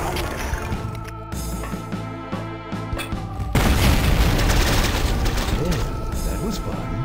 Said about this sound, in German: da ist aber irgendwie noch ein bisschen mehr explodiert